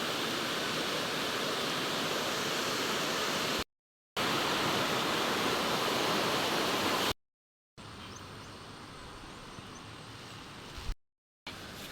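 A river current flows steadily, giving a dense, unbroken rushing wash that stays loud and close, with brief cuts in the recording and a slightly quieter stretch near the end.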